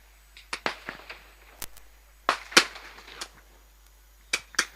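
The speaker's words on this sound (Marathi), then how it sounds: "फटाक्यांची आतिषबाजी होते." Firecrackers burst in celebration of a village cricket final win on the Valmiki plateau in Patan taluka. Scattered sharp cracks and pops come in irregular clusters, some louder, some farther off, with quiet gaps between.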